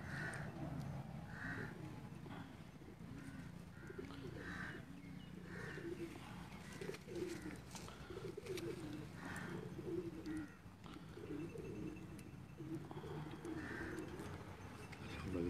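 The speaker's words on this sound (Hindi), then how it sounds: "शर्मीला कबूतर है जी।" Sharmila-breed pigeons cooing with soft repeated low coos, mixed with chirpy birdsong over a steady outdoor background hum, moderately close and continuous.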